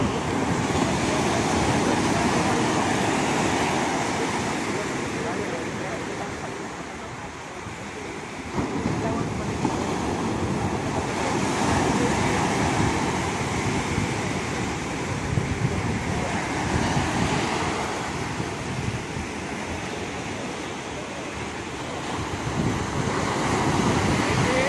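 Big ocean waves at a marine base in Ternate, Cavite, heard as a loud, continuous wash and rumble of surf with strong wind buffeting the microphone and a brief dip in the roar midway.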